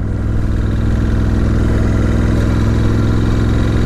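A 2018 Ducati Scrambler 1100 Special engine idling nearby with a steady, even low throb that stays loud and unbroken, no voices heard.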